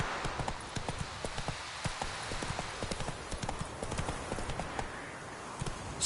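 Roach, a horse in The Witcher video game, clip-clops along at a steady walking rhythm, hooves striking close and clear in an even repeated pattern throughout.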